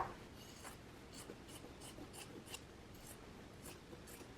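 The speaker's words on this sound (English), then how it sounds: "we can go ahead and trim down our seams" Scissors make soft, evenly spaced snips while trimming the sewn seams where a front facing joins a jacket lapel, about eight quiet cuts in a row against a hushed room.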